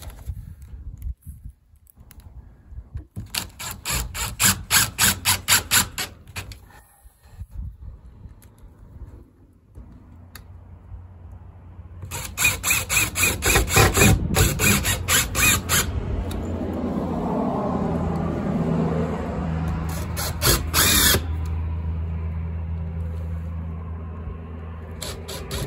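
Siding being fastened in a row below the windows: rapid bursts of mechanical rattling, close up, separated by quiet gaps, then a longer stretch of loud machine noise with low rumble behind.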